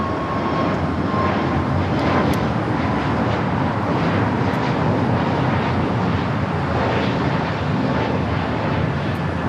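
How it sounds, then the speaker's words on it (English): An American Airlines Airbus A321neo takes off at LAX, a loud, steady jet roar with a faint high whine carrying through the whole stretch, no voices heard. "This is American Airlines 1245 taking off to Chicago on the A321neo"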